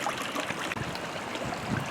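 A small waterfall spilling over a little dam where water has pooled behind it, a steady broadband trickle and splash close to the microphone with no voices.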